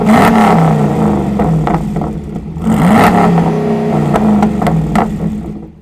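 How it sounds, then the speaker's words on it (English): Land Rover 6x6 fitted with stainless steel side exhausts revving loudly nearby, the engine note rising and falling in several surges with mechanical clatter between pulls. "We also put stainless steel side exhausts on the car, again, just for an aggressive look and sounds really good while you're driving."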